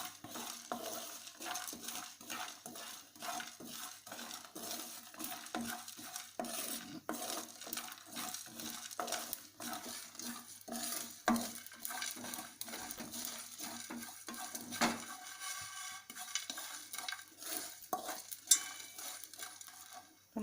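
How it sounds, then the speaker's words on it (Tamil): Cinnamon, cloves and whole masala spices dry-roast in a village-style pan, with continuous light sizzling and frequent metal-on-metal scraping and clinking from stirring over about twenty seconds; no voices. "இப்போ நம்ம பட்டை, கிராம்பு, இந்த மசாலா எல்லாத்தையும் லைட்டாக வறுத்துக்கலாம்"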